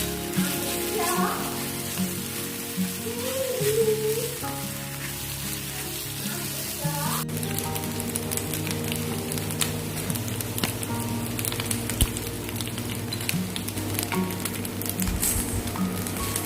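Boiled, salted macaroni tipped into a hot pan for a spicy egg macaroni cake, with a steady crackling sizzle that swells partway through and carries on loud and close, with no talking.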